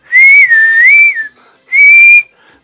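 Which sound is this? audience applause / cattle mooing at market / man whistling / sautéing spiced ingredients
man whistling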